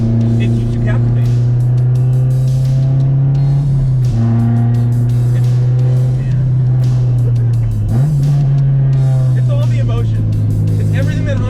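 A Honda S2000 sports car engine drones steadily while driving, with a strong low exhaust tone that dips and rises as revs shift around four and eight seconds; loud and close, continuous throughout.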